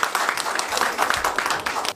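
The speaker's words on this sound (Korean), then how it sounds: "박수로 맞이해 주시기 바랍니다" A seated audience at a Korean academic symposium claps to welcome the keynote presenter, a brief burst of dense, fairly loud applause.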